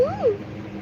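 A voice imitates the call of a koel (cuckoo) with a single short, whooping note that rises and falls, close and clear.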